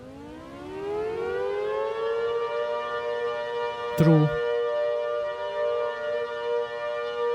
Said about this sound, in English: The dual tone of the tornado / air raid / civil defense sirens just has a creepy dissonance to it.